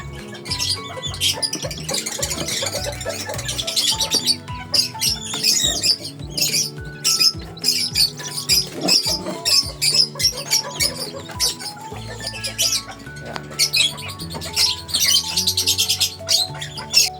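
Young chicks peep and chirp in rapid, shrill bursts while being moved one by one, close and busy, with irregular handling noises between the calls.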